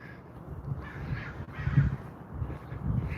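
Several crows caw repeatedly outdoors, rough calls recurring at irregular intervals against a constant ambient hiss, moderately loud and not far off.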